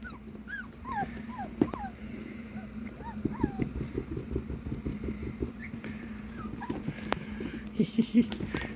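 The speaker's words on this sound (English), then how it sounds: "so this is Andy's puppies" A litter of puppies whimpering and giving high little yips, many overlapping squeaks over a steady low hum, fairly close, with scattered patter of movement.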